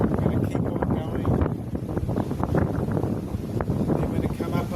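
Wind gusts buffet the microphone outdoors in a continuous rough rumble, running under a person talking throughout.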